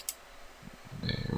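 A computer mouse double-click, a quick pair of close, faint clicks within a brief moment of quiet room noise.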